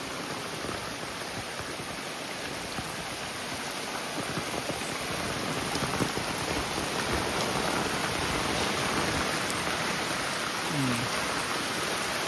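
Fast, forceful stream water rushes steadily and loudly throughout at a river fishing spot, a dense continuous roar with no pauses.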